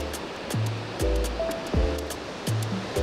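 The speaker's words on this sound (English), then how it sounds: "Good Lord, that river is ripping." Fast, high-volume Tallulah River in Tallulah Gorge after heavy rain with floodgates open, a loud steady broadband roar of rushing water throughout, with low-pitched voiced sounds breaking in over it at intervals.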